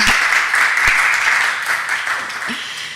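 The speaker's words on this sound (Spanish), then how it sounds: "todos ustedes, un aplauso para Esther." An audience at an academic and entrepreneurship conference applauds for the speaker Esther, a loud, continuous patter of clapping that fades gradually toward the end, with a few sharper claps standing out.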